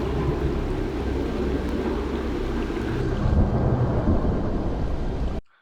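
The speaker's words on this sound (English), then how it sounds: "Nice rain." Steady heavy rain pours down with a deep rolling rumble of thunder in the Killing Floor 3 prison setting, continuous and close, cutting off abruptly at the end.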